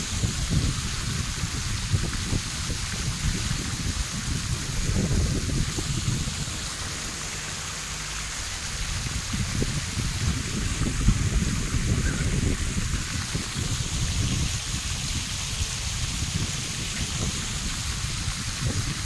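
Steady rushing fountain water at Bihu Lake Park in Taipei, a continuous broadband splash heard fairly close and alone, with a slight dip in intensity midway before resuming.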